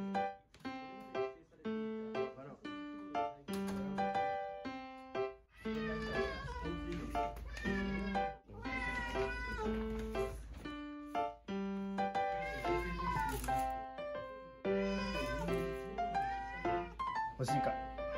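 Cats being offered cat grass meow repeatedly, drawn-out tonal cries rising and falling close by, mixed with other sustained tonal sounds across most of the stretch.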